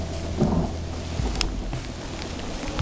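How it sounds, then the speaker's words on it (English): Heavy rain pours steadily in a wild campground during a storm, with a low rolling rumble of thunder underneath the dense hiss of falling water. "Hear the lightning there, I mean the thunder. And it is like really coming down now."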